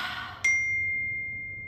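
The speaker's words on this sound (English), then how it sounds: "I just got a text message if you heard the ping" A phone gives a text message notification, a single short bright ping that rings out as a sustained clear tone, close and fairly loud, fading slowly with no talk over it.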